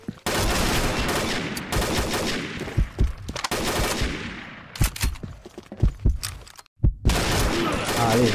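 Dense rapid gunfire from the online shooter Combat Arms during a match, with sustained automatic bursts broken by short pauses and sharp single shots, loud and close throughout.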